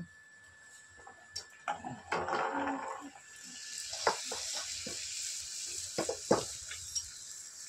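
Luchi puffed bread frying in hot oil, bubbling sizzle that rises and spreads as the dough goes in, with sharp clicks and clatters of a utensil against the pan, close and moderately quiet.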